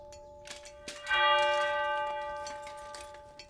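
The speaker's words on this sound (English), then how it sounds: "And you hear 7 chimes come out of that bell." Church bell struck once with a clear ringing tone that hangs and slowly fades, preceded by faint knocks, heard alone at moderate distance.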